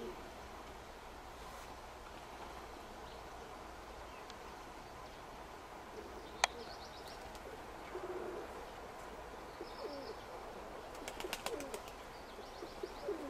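Faint cooing of tumbler and high-flying pigeons over a steady low background rumble, with a few brief sharp clicks and chirps near the end.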